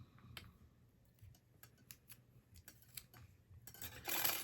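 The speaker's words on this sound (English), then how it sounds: "So I got to cut the aperture." Scissors cutting an acetate aperture for a Christmas card: a run of small, faint, close snips and clicks at an irregular pace, ending in a brief crinkling rustle, with no speech.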